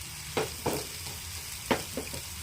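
Dried prawns frying in oil with brinjal give a low steady sizzle, broken by several sharp scraping stirs of a spoon in the pan, close by and without speech.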